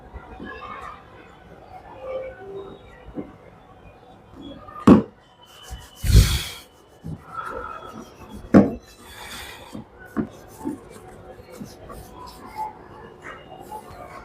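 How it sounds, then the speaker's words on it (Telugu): A car dashboard is wiped and rubbed clean by hand, giving soft scrubbing and rubbing with a few sharper knocks and bumps, while a person talks quietly. "ఇప్పుడు దీన్ని మనం నార్మల్గా మొత్తం క్లీన్ చేసేద్దాం."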